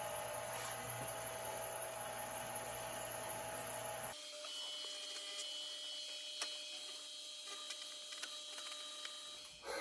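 Sandpaper working through grits on a spinning top turning on a wood lathe: a steady, even whir and hiss of the lathe and abrasive, continuous throughout, changing tone partway as the sanding shifts.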